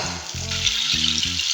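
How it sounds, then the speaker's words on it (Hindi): Tomatoes fry in a pan for an egg gravy, sizzling loud and close in a continuous hiss broken by stirring pulses, with no voices. "यहाँ पे हमारे टमाटर की भुनाई हो चुकी है।"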